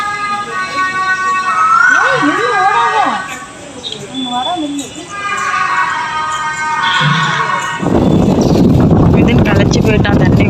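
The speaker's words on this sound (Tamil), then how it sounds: "நல்லா காற்று செம்மையாக அடிக்குது காற்று" Strong wind blows outdoors at the Thyagarajar temple at dusk, buffeting the microphone with a loud rushing roar in the final seconds, after earlier stretches of voices and wavering tonal sounds.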